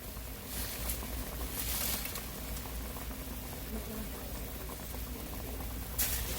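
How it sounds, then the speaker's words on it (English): Water boiling in a pot on the stove with onion and collard greens for Thanksgiving, a steady low bubbling and popping at moderate level, without talk. "I'm gonna go ahead and start putting my collards in because the water started to boil"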